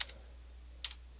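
Two short bursts of computer-keyboard typing, a quick cluster of clicks at the start and another just under a second later, fairly faint and close in a quiet room.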